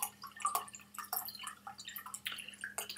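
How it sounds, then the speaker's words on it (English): Water poured into a clean Glencairn whisky glass, a short run of light splashes, drips and trickles, close and fairly quiet, with no talk. "Pouring water into a clean Glencairn"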